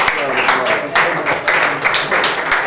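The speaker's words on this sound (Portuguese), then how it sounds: "tempo, aplausos, aplausos." Audience applause at a rap battle, a dense, loud burst of crowd clapping with rhythmic pulses and cheering, sustained through the moment.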